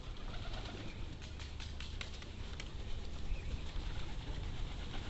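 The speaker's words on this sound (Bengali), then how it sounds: "দেখবেন সবগুলো কবুতর এক এক করে আসবে, আসতেছে।" Pigeons gather and coo softly at feeding time, low murmuring calls over a steady faint background hum, with occasional wing flutters.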